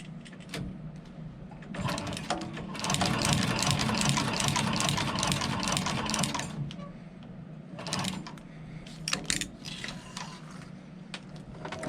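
A sewing machine stitches through a leather belt in a long, rapid mechanical whirr of needle strokes that rises and falls, then breaks into shorter bursts as the run ends.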